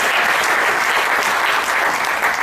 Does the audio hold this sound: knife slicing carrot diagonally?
no